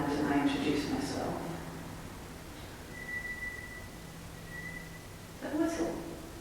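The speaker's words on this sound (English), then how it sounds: "That whistle." Faint steady whistle tones sound twice at night inside the haunted Old Licking Jail, each lasting about a second, while people talk quietly nearby and a low hum runs underneath.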